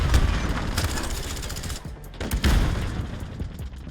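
P90 submachine gun in Modern Warfare fires in rapid repeated bursts, loud and close, with a short pause in the middle before the shooting picks up again, mixed with mechanical clicks and rattles.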